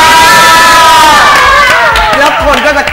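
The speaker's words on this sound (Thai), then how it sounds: "แล้วคนก็จะกรี๊ดกันเลย ฮูฮามากมาย" A studio audience at a Thai television talent and pageant show screams and cheers loudly, with a dense, sustained roar of shrill voices filling the whole stretch.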